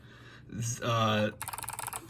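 Short burst of typing on a mechanical keyboard with clicky switches, a rapid series of crisp clicks following brief voiced sounds, close up and moderately quiet.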